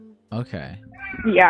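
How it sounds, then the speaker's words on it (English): A housecat yowls loudly in a few drawn-out, human-like cries, the last rising strongly, while a person speaks a couple of words nearby. "That's actually my cat."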